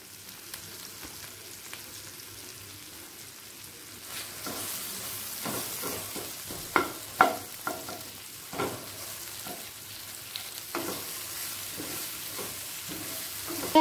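Tomato, capsicum and ground spices fry in a pan for a paneer dish, with a steady low sizzle under sharp spoon-on-pan scrapes and knocks from stirring, loudest in the middle section.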